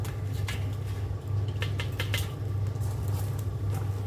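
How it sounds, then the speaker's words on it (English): Light patter of first raindrops near a Weber kettle smoker, over a steady low hum, with scattered soft taps and clicks nearby. "it's just starting to rain"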